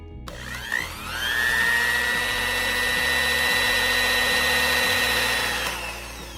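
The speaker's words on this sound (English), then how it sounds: "And I'm going to blend this again." Electric blender grinding a spice paste with a few tablespoons of oil for Malaysian-style satay sauce, a loud steady motor whir starting after a brief clatter, holding for several seconds and then winding down.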